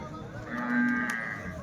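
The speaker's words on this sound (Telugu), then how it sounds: "ఇవి ఒక మూడు ఆవులు అయితే ఉన్నాయండి" A cow lets out a single drawn-out, low moo nearby at a cattle market in Punganur, with quiet background around it.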